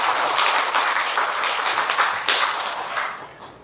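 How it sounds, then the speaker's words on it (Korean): Audience applause at a Buddhist summer lecture for a visiting reporter from Hyundae Bulgyo, a steady dense clatter of clapping held at an even level throughout, with no one speaking. "우리 현대불교 우리 기자분 박수 한번 보내주시죠"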